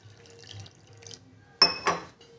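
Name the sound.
pouring a little water into batter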